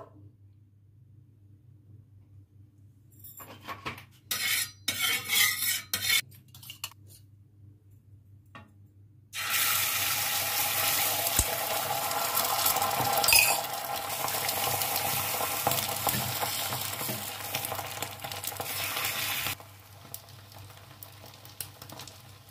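Oil sizzles and fries in a pan while an egg roll is made at home, a steady broad hiss that starts partway through and holds for about ten seconds, preceded by a few clattering knocks and then cutting off.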